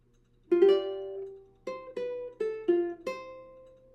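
Plucked ukulele fingerstyle melody: about five clear single-note phrases with ringing decays, close and alone, no talking.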